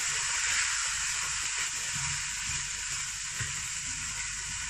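Rice stirred in a hot pan sizzles and crackles steadily, close and moderately loud, with a constant bright frying hiss and soft scraping stir sounds underneath.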